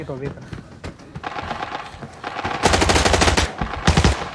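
Gunfire rattles in the video game Arena Breakout, with bursts of rapid automatic fire that grow louder and denser toward the end, mixed with a player's voice and game effects.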